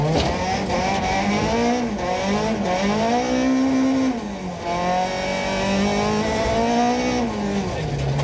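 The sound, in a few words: rally car in-car engine on a stage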